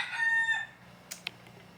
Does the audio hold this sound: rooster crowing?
yes